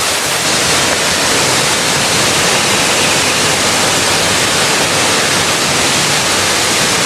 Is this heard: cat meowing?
no